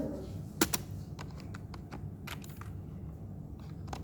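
Keys tap on a computer keyboard as a search is typed, giving a quiet, irregular run of light clicks over a soft background hum.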